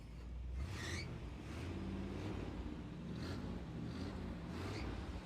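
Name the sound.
1957 Chevy Bel Air engine revving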